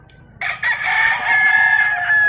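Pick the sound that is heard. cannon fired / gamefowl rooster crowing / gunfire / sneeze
gamefowl rooster crowing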